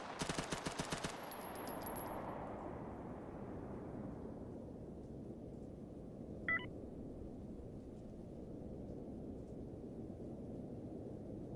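A micro Uzi in STALKER GAMMA rattles off one short, rapid automatic burst at the very start. The burst is followed by a long, quiet rumbling tail.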